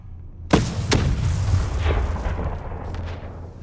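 Cannon fire in the Guild Wars 2 battle: a loud, sharp boom lands near the start, then a second blast follows, and both trail off into rumbling explosive noise that lingers to the end.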